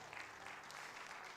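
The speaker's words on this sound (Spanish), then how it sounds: "¿Será que le puede dar un aplauso fuerte a Cristo en este día?" A church congregation applauds during a Spanish-language service, a short burst of steady, fairly faint clapping heard alone.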